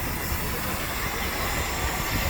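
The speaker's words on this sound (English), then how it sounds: "Guys, the train is coming." An arriving train rumbles and hisses steadily close by, a loud, continuous wash of rail and engine noise with no pauses throughout.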